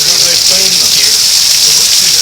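Heavy rain pours steadily and loudly during a storm that has already flooded a storm drain, a dense unbroken hiss close to the microphone with faint voices talking underneath.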